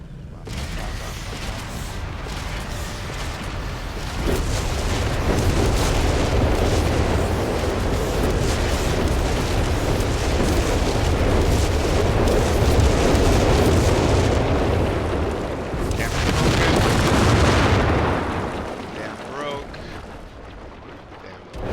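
Rocket barrage in Company of Heroes 3 pounding a dam area, a long sustained rumble of overlapping explosions and booms swelling and fading over about twenty seconds, with a voice speaking over parts of it.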